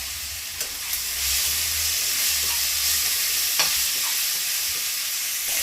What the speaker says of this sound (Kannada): ನಂತರ ಟೊಮೊಟೊನೂ ಚೆನ್ನಾಗಿ ಫ್ರೈ ಮಾಡ್ಕೊತಾ ಇದ್ದಾರೆ